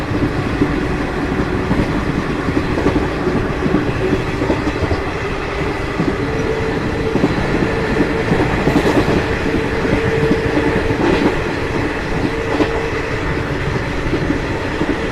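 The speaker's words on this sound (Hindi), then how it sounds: "फिलहाल हमारी ट्रेन 130 किलोमीटर पर आवर की रफ्तार में चल रही है" A Yuva Express passenger train on the Mumbai–Delhi route runs at about 130 km/h, heard from inside as a steady loud rumble with rhythmic wheel clatter and rail noise throughout, no voices.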